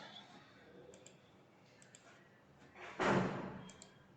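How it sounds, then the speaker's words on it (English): A computer mouse gives several faint, sharp clicks spread across a quiet room, followed by a louder dull knock or thump near the end. "I'll right click on this policy"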